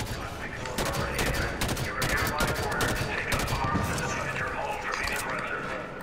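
Gunfire in the Halo 5 video game on Legendary difficulty, rapid bursts of shots crackling in dense clusters over game audio, with voices talking throughout.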